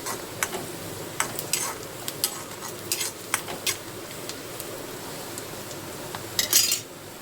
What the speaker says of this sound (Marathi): कांदा चांगला लालसर भाजला